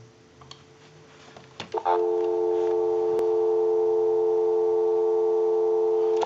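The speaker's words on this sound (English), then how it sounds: "Go ahead and give you some dial tone." Steady telephone dial tone from a candlestick telephone connected to a line, starting after a few faint clicks and handling noises and then holding loud and constant.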